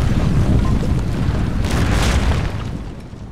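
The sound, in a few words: cannon fire in a video game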